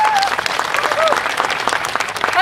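An audience applauds after a performance, a brief burst of dense clapping with a voice speaking over it.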